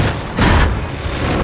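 A tank cannon shot from a World War II armored battle in the war film Fury, a loud broadband boom with a heavy low-end blast swelling midway through the clip amid continuous battlefield rumble.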